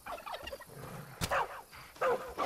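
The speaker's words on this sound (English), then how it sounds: "So we saw the turkeys going crazy." Wild turkeys in the video game Far Cry 5 gobbling close by, several rapid, rattling gobble bursts spaced across a couple of seconds over quiet background.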